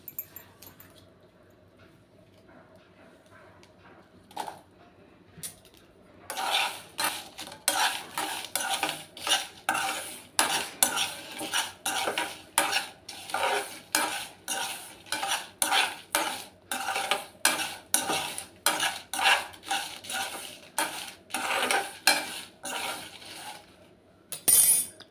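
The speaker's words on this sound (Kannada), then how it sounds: "ಈಗ ಇದಕ್ಕೆ ಬೆಳ್ಳುಳ್ಳಿ ಹಾಕ್ತಾಯಿದ್ದೀನಿ." Metal spoon scraping and stirring garlic frying in a pan for mango pickle, a long run of rapid, fairly loud clinks and scrapes against the pan after a quiet start, with a faint sizzle beneath and no talking.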